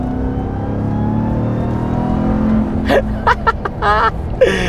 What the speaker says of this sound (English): just listen to that supercharger